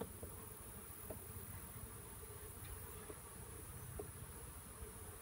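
Honeybees from a nuc being transferred into a hive, a faint, steady buzzing drone with soft scattered clicks, no speech over it.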